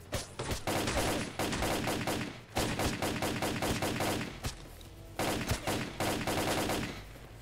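Automatic gunfire in S.T.A.L.K.E.R.: Clear Sky, loud rapid bursts lasting a second or two each, separated by brief pauses, with dense overlapping shots and echoing reports.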